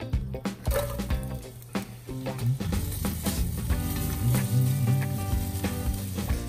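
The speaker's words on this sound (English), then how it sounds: "Sizzling away, browning off nicely." Onions and garlic sizzle in olive oil and butter in a Le Creuset Dutch oven, a continuous crackling fry with occasional clinks and stirring noises, no talking.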